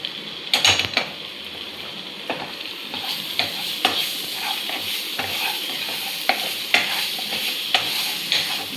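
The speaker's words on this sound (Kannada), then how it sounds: "ಗಾರ್ಲಿಕ್ ಪೇಸ್ಟ್ ಹಾಕ್ತಾ ಇದ್ದಾನೆ." Garlic paste crackles and sizzles in hot oil with frying onions, a steady spitting hiss broken by regular scraping clinks of a spoon stirring against the pan.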